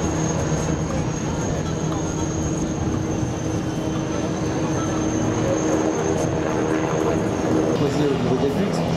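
Steady, loud rotor and engine drone of a nearby Eurocopter EC665 Tigre attack helicopter at an air show in Hyères, continuous throughout with a constant high whine above, people talking underneath.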